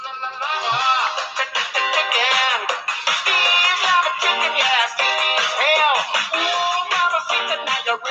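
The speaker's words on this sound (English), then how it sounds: "sorry, that's my ringtone" A phone ringtone plays as a bright, loud electronic melody with dense harmonic tones, running steadily for about eight seconds with no talk over it.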